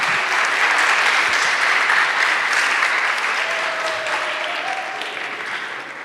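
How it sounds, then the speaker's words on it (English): Sustained applause from an audience in a Coptic Orthodox church sanctuary in Cleveland, a dense, loud wash of clapping that holds steady and then slowly fades toward the end. "He deserves a round of applause."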